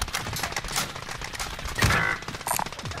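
Rapid automatic gunfire rattles in a dense, close burst during a Modern Warfare Warzone match, with a sharper crack near the middle and clattering shots trailing off.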